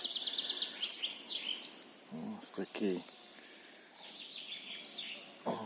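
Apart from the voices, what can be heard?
birds singing in forest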